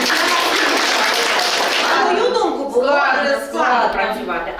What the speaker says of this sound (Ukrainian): Це можете нагородити себе знову оплеска